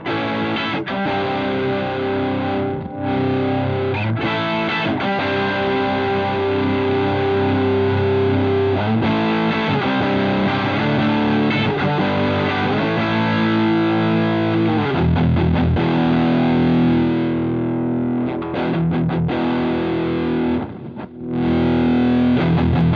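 Electric guitar played through a ThorpyFX Gunshot overdrive pedal with the distortion knob at maximum, thick sustained distorted chords and riffs ringing continuously at a loud, even level with no talking.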